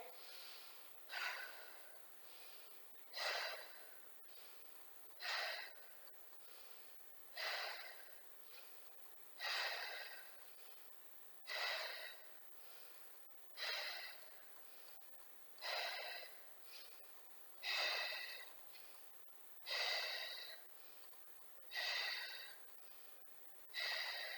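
Rhythmic breathing during a Pilates exercise, with about a dozen evenly spaced, breathy inhales and exhales that come close and fairly loud, alone without talk.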